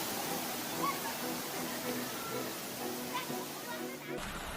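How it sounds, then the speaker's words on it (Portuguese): Swelling sea waves strike the coast in a continuous rushing, sloshing wash at moderate loudness, with a voice speaking over it. "veremos como as ondas do mar crescem e atingem a costa, causando transtornos às pessoas"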